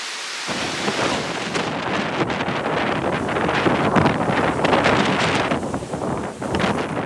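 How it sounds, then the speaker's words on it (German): A stormy roar of heavy wind buffeting the microphone with driving rain during a storm surge in Flensburg, Germany, loud and continuous, with gusts rising and falling throughout. "Der Sturm nimmt schnell an Stärke zu."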